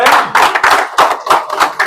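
An audience claps in bursts for a young woman who cleared the UPSC civil services exam, the clapping loud and close, in uneven rhythmic waves over a couple of seconds.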